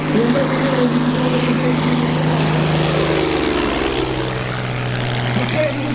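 Brigadier model airplane flying at a model air show in Holešov, its small engine giving a steady, loud buzzing drone that shifts pitch as it passes, with a faint voice talking over it.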